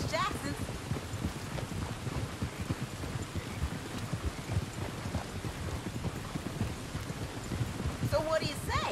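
Horse hooves clip-clopping during a ride on an old dirt road, steady rhythmic hoofbeats close by with light rain-like background noise throughout.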